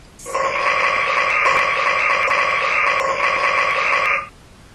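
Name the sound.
storyteller imitating a turtle's burp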